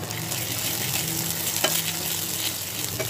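Fried onion with ginger paste and garlic paste sizzles steadily in a pan at close range, with a few light scrapes from stirring and no talking.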